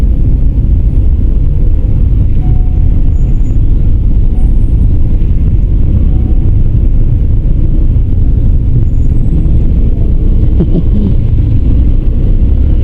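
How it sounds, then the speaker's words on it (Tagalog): Continuous road traffic with trucks on Commonwealth in the Philippines, a loud, dense rumble of engines and wind buffeting heard up close and unbroken throughout, with no talking. "Ito, traffic na ito."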